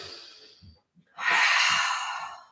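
Slow, deep yoga breathing close up: a soft, airy breath, a short pause, then one long, loud exhale lasting over a second.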